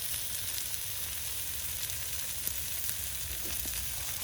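Burger buns toast on the hot surface of a Kamado Joe grill, giving a continuous, even sizzle and crackle with a few faint pops, steady and close throughout without speech.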